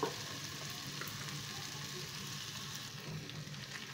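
Spice paste for tengra fish curry frying in oil in a pan, a steady close sizzle with light stirring, fairly quiet and without talk.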